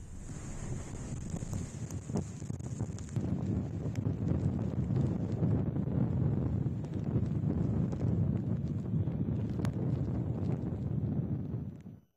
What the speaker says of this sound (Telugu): ఈదురుగాలులు గంటకు 100 కిలోమీటర్ల వేగంతో వీస్తున్నాయి